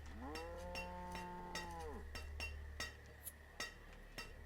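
A cow lows in the farming game Banished, one long drawn-out moo in the foreground, then a string of short clinks and knocks that could be cowbells, with no talking.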